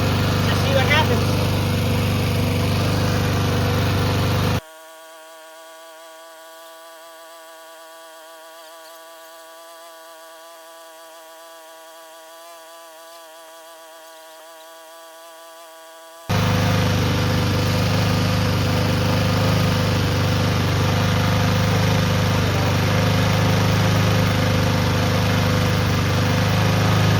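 A lawnmower engine runs at a loud, steady drone, then drops to a thin, buzzing hum for several seconds before the full roar returns, with no talk over it.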